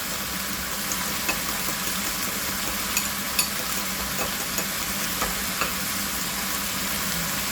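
Two medium eggs fry in a pan with a continuous close sizzle, broken by scattered small pops and spatters of hot oil throughout.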